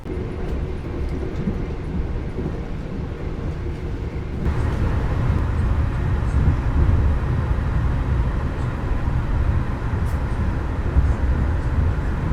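Senja Utama Solo passenger train running between Sumpiyuh and Kroya stations, a steady low rumble and rolling drone that thickens and grows louder partway through, with no voices.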